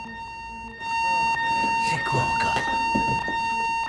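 A building fire alarm rings continuously with steady electronic tones, loud and close, while people speak over it.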